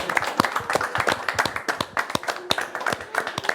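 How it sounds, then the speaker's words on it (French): An audience claps warmly to welcome Lucie onto the set of a televised grand final, with dense, irregular hand claps running steadily throughout at close range. "on peut l'applaudir."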